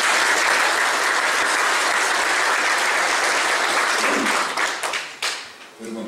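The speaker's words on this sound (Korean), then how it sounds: "이무영 청장님을 뜨거운 박수로 맞이해 주시기 바랍니다." An audience at a lecture on rule-of-law democratization and investigation reform welcomes a former police commissioner with loud sustained clapping that tapers off into scattered claps over the last seconds.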